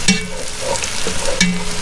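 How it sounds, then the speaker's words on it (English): Flour cooks in melted butter in a pan, a soft steady sizzle with a couple of close stirring scrapes and utensil taps. "put the butter in, melt the butter in there, and right into the butter, put a little flour"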